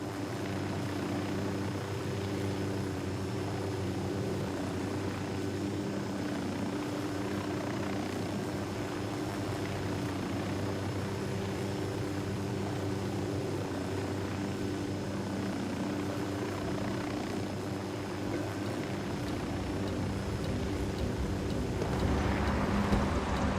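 A helicopter in the tactical shooter Ghost Recon Wildlands drones steadily and loudly, its rotor and engine hum constant and close for the whole stretch, swelling slightly near the end, with no talk.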